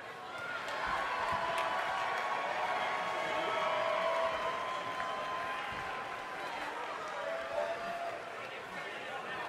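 Arena crowd in the WWE 2K20 wrestling video game, a steady wash of cheering and chatter that holds at an even level throughout, broad and distant with no single voice standing out.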